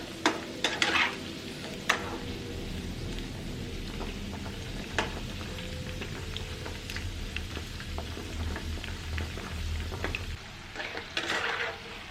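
Meatballs frying in a pan and being turned over, a steady close sizzle with crackle, occasional knocks and scrapes as pieces are flipped, and a brief louder burst near the end.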